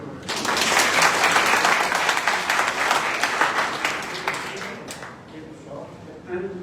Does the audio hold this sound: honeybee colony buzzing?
no